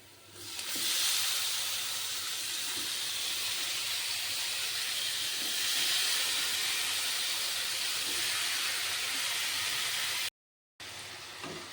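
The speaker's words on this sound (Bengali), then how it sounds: "এবার আমি তাতে আগে থেকে মেরিনেট করা মাছটা দিয়ে দেব" Marinated mola fish hits hot oil with reddened fried onions, giving a steady, loud broadband sizzle and hiss that runs unbroken for several seconds, with a short dropout near the end.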